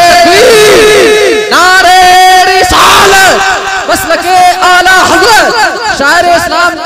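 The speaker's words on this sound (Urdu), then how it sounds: "نعرے تکبیر نعرے رسالت" A crowd at an Eid Milad-un-Nabi naat gathering roars back in loud unison to the Naara-e-Takbeer religious slogan, sustained massed shouting with swelling voices, close and overwhelming.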